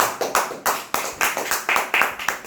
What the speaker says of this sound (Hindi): इसके लिए एक ताली होना चाहिए